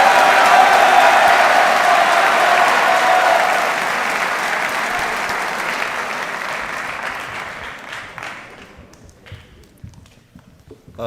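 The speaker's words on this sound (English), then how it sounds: "If you'll give them a round of applause" A banquet crowd claps loudly for the freshman football players in an indoor hall. The dense applause holds steady, then thins and tapers off into scattered claps near the end.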